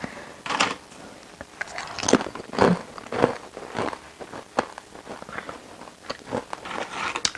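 Close, loud crunching bites and chewing of crisp homemade plantain chips, a series of sharp crackly crunches at an uneven pace with no talking.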